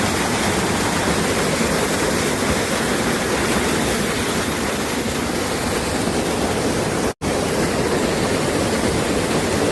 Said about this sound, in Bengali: অনেক উপর থেকে এই ঝর্ণার পানি প্রবাহিত হচ্ছে।